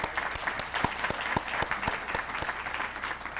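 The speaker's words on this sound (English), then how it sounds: "can you stand up and give Malcolm a round of applause?" An audience at a lecture honouring Malcolm Comeaux breaks into a round of applause, dense clapping with sharp individual claps standing out, sustained evenly throughout.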